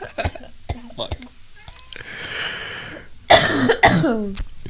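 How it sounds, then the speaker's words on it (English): A person has a coughing fit, several sharp coughs early on and then a harsher, louder burst near the end, with breathy sounds and murmured voices between them, recorded close up. "Should I keep it in where you do your coughing fit again?"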